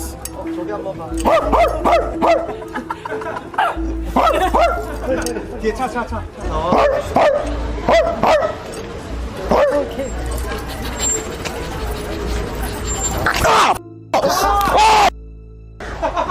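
A small dog held in a stranger's arms yaps and yips repeatedly during a live stream, close and loud amid excited talking and chatter.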